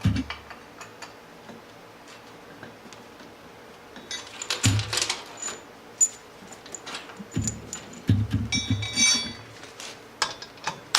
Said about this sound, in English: I'm going to drop our bolts down.